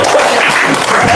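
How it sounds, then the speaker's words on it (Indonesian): A studio audience at an Indonesian talk show breaks into a short, dense burst of clapping, loud and close, lasting about a second. "Tepuk tangan dong."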